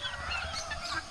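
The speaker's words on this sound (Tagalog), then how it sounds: "May uwak dito sa amin." A pet crow gives a short burst of harsh, nasal, honking calls at moderate volume, heard alone with no talking.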